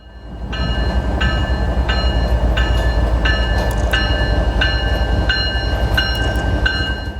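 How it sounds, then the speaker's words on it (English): Heavy rumble of a modern mainline freight train passing an old station building in Winnipeg, loud and close, with regular rhythmic clicks of wheels over rail joints throughout. "a modern mainline freight train passing the old station building"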